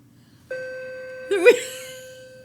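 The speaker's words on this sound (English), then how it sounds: "So within every minute and 30 seconds it's chiming?" A single chime rings out clearly with a sustained bell-like tone that rings on and decays slowly, loud and close, while a voice speaks briefly over it partway through.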